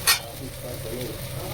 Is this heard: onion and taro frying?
yes